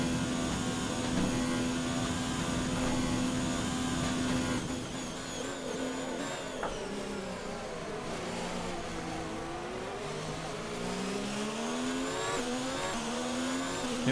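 A Ferrari Formula 1 car in the game F1 2019 at Belgium, its engine a steady high scream held near and loud throughout, with pitch sweeps as it shifts and changes speed.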